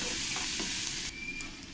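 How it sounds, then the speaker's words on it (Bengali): Onions sizzle in hot oil in a pan, a loud, steady frying hiss close by that eases slightly partway through. "পেঁয়াজগুলো দিয়ে ভালো করে আমি একটু লাল লাল করে পেঁয়াজগুলো ভেজে নেব"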